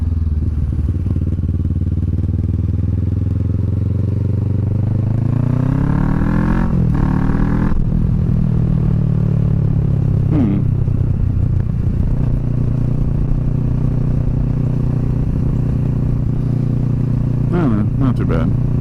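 A motorcycle fitted with a Delkevic SS70 slip-on exhaust accelerates, its engine note rising steadily in pitch through the gears with heavy wind roar throughout. A rider talks over the noise.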